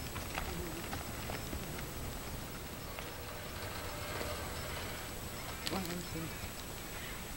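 Hooves clip-clop steadily at a distance as a horse moves along outdoors, with faint background noise and occasional bird calls.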